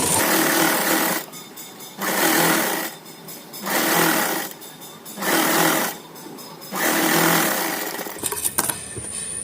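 Electric sewing machine stitching a line on kameez fabric in five rapid bursts, each a buzzing run of the needle lasting about a second, separated by short pauses, ending with small clicks and handling noise.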